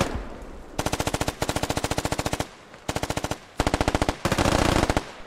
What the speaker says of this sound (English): Shots popping off. Lots of shots happening.